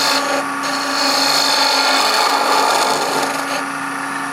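A Bedan parting tool makes a point cut on a wood lathe, a close, steady scraping rasp of steel on spinning wood over a constant motor hum, with slight surges in intensity.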